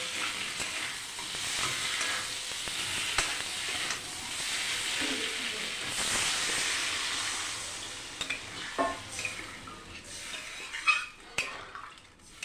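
Water hits a pan of frying spice paste for a rohu fish curry with potato and cauliflower, giving a loud hissing sizzle and steam that settles into bubbling with a few utensil clinks, no talk.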